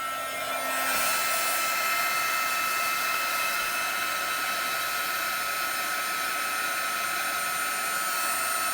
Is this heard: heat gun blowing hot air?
yes